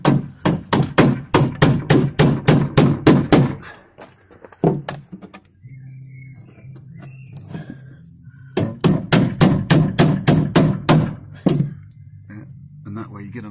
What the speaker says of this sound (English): I drill each end and then just nail it up.